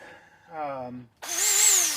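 A small Harbor Freight drill fitted with a sanding disc spins up at close range in short bursts, first a lower whirring run and then a louder, higher-pitched grinding whine, cleaning spots for MIG welding in a driveway.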